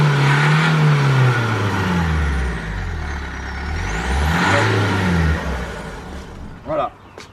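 An old car's engine restarts and revs, a loud mid-pitched drone that rises and falls over several seconds, with a brief sharp noise near the end and no speech.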